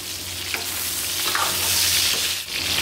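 Ginger slices and wild scallions being stir-fried in hot oil after pork belly has rendered, a steady close sizzle with scraping stirs throughout, no talking.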